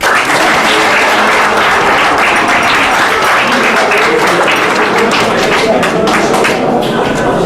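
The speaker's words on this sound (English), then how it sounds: "As-Salaam, you can clap for yourselves." School audience at a high school debate claps loudly and continuously, a close, dense roar of many hands with scattered sharper claps throughout.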